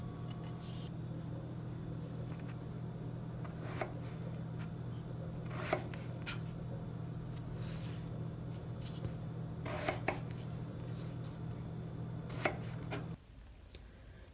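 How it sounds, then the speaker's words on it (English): Potatoes are peeled and cut into chunks with a knife on a board, giving sparse, scattered chopping knocks over a steady low kitchen hum that stops near the end. "While the octopus is stewing, I am peeling the potatoes. And then I'm going to cut them into chunks."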